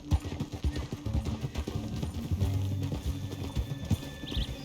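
Horse hooves clip-clop in Red Dead Redemption 2: a quiet, steady, rhythmic clopping of a horse moving at an even pace, with faint ambient game sounds and no speech.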